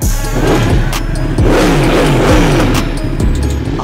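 A Yamaha R1M 1000cc sport motorcycle in Thailand revs loudly and close by. The engine drones steadily with repeated surging rev pulses, and no voices are heard.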